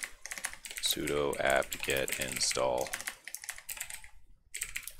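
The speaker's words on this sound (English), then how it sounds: "I'm typing it all wrong" Rapid typing on a computer keyboard while entering a terminal command, a close run of crisp key clatter that continues under a person speaking.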